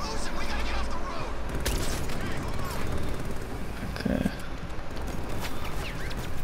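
Gunfire in the video game Batman Arkham Knight, steady dense shooting and rumble running throughout at moderate level under a busy game soundscape.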